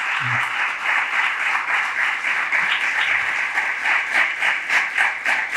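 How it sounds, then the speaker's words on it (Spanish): Audience at a Spanish rule-of-law conference applauding the speakers, a sustained dense round of clapping from a seated crowd that holds steady throughout, with no voices over it. "acabamos aquí con un aplauso para Lucas y Carolina."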